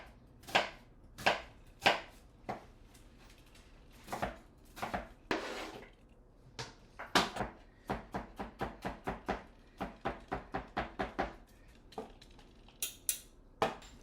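A knife chops an onion on a board for a vegan clam chowder, landing in sharp, close thuds. Slower, spaced strokes at first give way to a quick, even run of chops, with a few scattered taps at the end and no talk.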